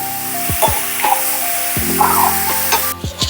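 A kilogram of chicken goes into a hot curry-leaf tempering and sizzles steadily up close, with repeated sharp knocks and scrapes as it is stirred.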